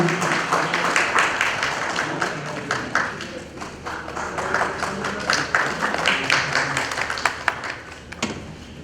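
Audience applause at an evening award ceremony in honour of Atal ji, where a chief guest presents an honour; dense, sustained clapping from a crowd, steady for several seconds with a fuller burst near the end.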